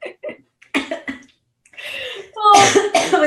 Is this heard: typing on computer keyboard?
no